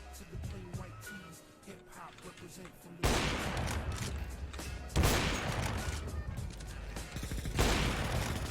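Suppressing gunfire in a video game: rapid bursts of automatic fire with heavy blasts and impacts that start abruptly and keep going, loud and close, with a person talking over the shooting.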